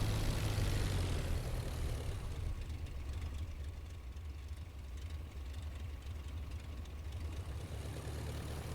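An aircraft piston engine in the IL-2 Flying Circus flight game drones steadily while the plane taxis, loudest at first and then settling into an even, buzzing hum with no talking.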